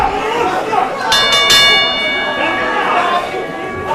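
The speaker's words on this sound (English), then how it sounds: "There is the bell for this special contest" A ring bell at a Fighting Spirit Wrestling event, Kill Em All 2016, rings out in a few sharp, sustained metallic strikes over steady crowd noise and chatter in the arena.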